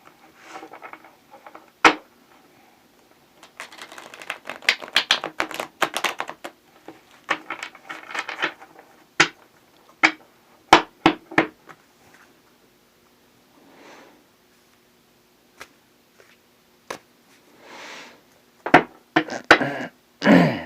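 A tarot deck being handled: cards are drawn and the deck is cut, giving a series of close, sharp card snaps and soft shuffling rustles with quiet pauses between.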